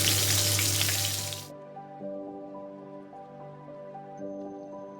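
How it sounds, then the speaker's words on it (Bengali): Ash gourd pieces hit hot oil in a wok with a nigella and green chilli tempering: a loud, close burst of sizzling for about a second and a half, then it drops to a quiet bed with faint tonal background sound. "চাল কুমড়োটা দিয়ে দেবো।"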